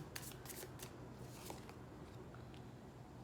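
Tarot cards being shuffled by hand in a quiet room, a quick series of soft riffling flicks and papery snaps, close and fairly faint, with no talking.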